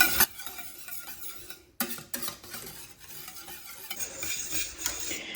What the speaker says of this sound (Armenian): անընդհատ խառնում ենք մինչև եփվի կրեմը, պնդանա ավելի շատ